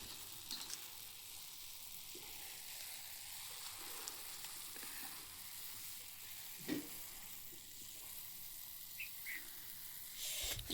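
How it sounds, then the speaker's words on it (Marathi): Tea boils in a pot on a wood-fired clay stove, a soft continuous bubbling hiss with faint crackles and occasional clinks, quiet and steady with no talking. "चहा मस्त उकळलाय."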